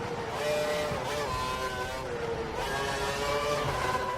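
A Formula 1 car engine in the racing game F1 2012, a steady, loud high-pitched whine holding on throughout with slight pitch sweeps as the car runs through the final sector.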